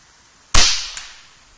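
A single sharp, loud crack comes from an Air Venturi Avenger .25 air rifle fired off a shooting rest. It decays quickly, with a faint second tick just after it.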